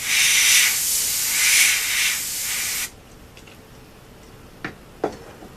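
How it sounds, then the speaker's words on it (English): Compressed air sprayed in a loud, steady hiss for about three seconds over a Nintendo DS Lite screen during a top screen installation, followed by near silence broken by two faint clicks. "we've got a bit of compressed air there"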